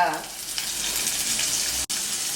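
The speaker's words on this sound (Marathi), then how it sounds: "कढाई गरम करायला ठेवली याच्यात थोडं तेल घालू याच्या जिरे घालू हिरवी मिरची घालू" Cumin, green chillies and onion fry in hot oil in a kadai, giving a continuous close sizzle with one short dropout.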